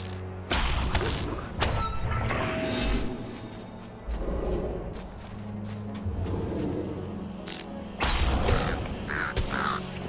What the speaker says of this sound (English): Alright, so there's the crows.